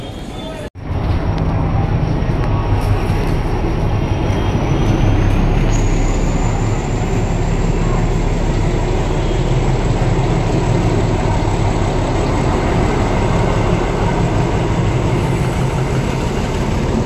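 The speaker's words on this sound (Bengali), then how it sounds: "এই যে দেখুন ট্রেনটা আসছে 12323 হাওড়া বার্মিল এক্সপ্রেস" The 12323 Howrah express rolls into a station with a loud, steady rumble of wagons and wheels, a high squeal of wheels rising partway through and continuing for the rest.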